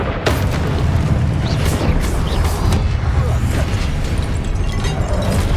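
A Confringo explosion spell in Hogwarts Legacy sets off a loud, sustained blast with a deep, rumbling roar that keeps booming steadily without letting up.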